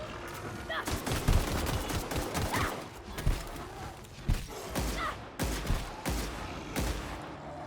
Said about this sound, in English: Yeah, this gun is pretty good.